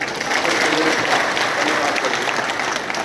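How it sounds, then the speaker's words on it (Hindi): Audience at a Congress party gathering in Karauli claps loudly in support, a dense, loud, steady roar of applause from a crowd lasting the whole few seconds, with a voice faintly mixed in. "आप सबने हाथ उठाया तो जोरदार ताली के साथ"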